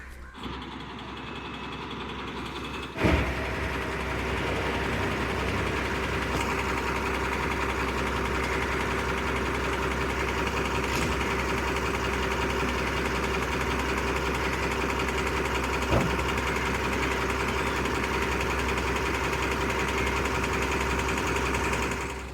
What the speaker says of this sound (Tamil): எஸ், ஃபைனலாக வண்டியை ஆன் பண்ணிட்டாங்க.